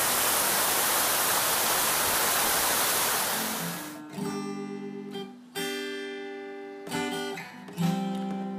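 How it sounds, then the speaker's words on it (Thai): Second tier of Pha Charoen waterfall in Tak, a broad steady roar of falling water that cuts off after about four seconds, followed by a song playing in bursts. "นี่คือน้ำตกชั้นที่สองครับ"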